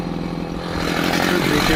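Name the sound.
Husqvarna chainsaw cutting a tree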